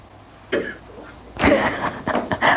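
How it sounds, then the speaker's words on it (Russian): A mother coughing indoors, a few close, dry coughs in short uneven bursts after a small throat sound, with quiet room noise between them. "Мамин кашель"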